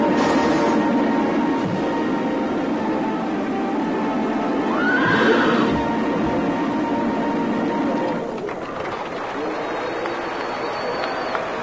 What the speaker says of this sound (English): today's Irish are united by the sound of a horse's hooves striking lightning from the earth